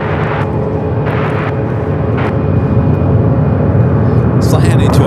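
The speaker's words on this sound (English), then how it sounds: "Delta 757 heading down for a south side at takeoff" A Delta Boeing 757 airliner roars loudly and steadily on its takeoff run at Phoenix Sky Harbor airport, a broad continuous rumble that fills the whole stretch, with voices talking over it.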